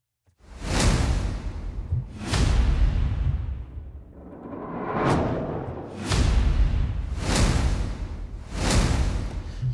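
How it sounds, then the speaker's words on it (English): Whoosh sound effects from a music-production library play back to back: about six loud swooshing sweeps, each swelling and falling away, spaced a second or two apart, with one softer rising swish in the middle. "And then finally whooshes."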